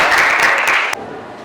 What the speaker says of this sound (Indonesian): tepuk tangan dulu buat Jana dan Sofi